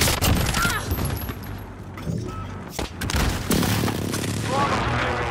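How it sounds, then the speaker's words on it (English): Airstrike explosions in the video game Call of Duty Warzone: heavy booms and rumbling blasts rolling one after another, loud and dense, with a voice heard between the impacts. "Be advised, friendly position airstrike inbound"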